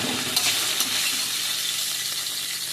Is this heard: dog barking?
no